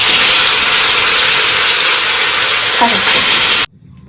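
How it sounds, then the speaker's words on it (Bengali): Chicken marinated in salt and turmeric sizzles hard in hot oil, a loud, close, continuous frying hiss that stops abruptly near the end. "লবণ, হলুদ আর চিকেনটাকে ভালো করে যে মাখিয়ে রেখেছিলাম ওটা আমি তেলে দিয়ে দেবো।"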